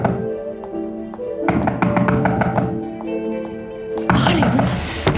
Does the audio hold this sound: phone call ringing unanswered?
no